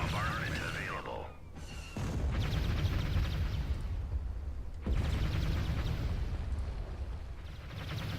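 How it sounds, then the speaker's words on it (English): Artillery bombardment in the Star Wars: Thrawn's Revenge strategy game, with loud, dense booming explosions and rumbling blasts that run almost continuously, briefly dropping off before surging back, with a few whistling tones early on. "We're just going to do this with artillery by the looks of it."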